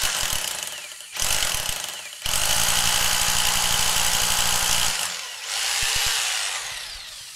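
A loud hammer drill grinds and rattles in bursts drilling into brick, stopping and restarting, with a harsh continuous roar up close.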